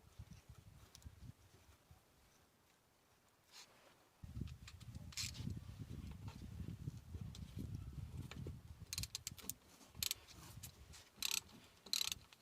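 A bolt is tightened on the brake hose at the rear caliper of a 2007 Vauxhall Meriva. Faint, close ratcheting clicks and small mechanical ticks come in short runs over low background rumble.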